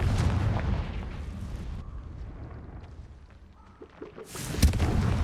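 Spell blasts from the Confringo fiery curse in Hogwarts Legacy erupt in heavy booming bursts, a loud rumbling explosion that fades over a couple of seconds, then another sharp crackling blast near the end.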